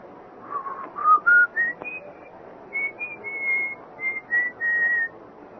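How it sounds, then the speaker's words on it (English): Someone whistles an old love-song tune late at night, a series of clear sustained melodic notes rising and gliding in short phrases over a faint low hiss, with no talking. "I heard it. The whistling. It was an old tune."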